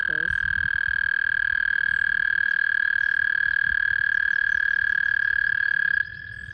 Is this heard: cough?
no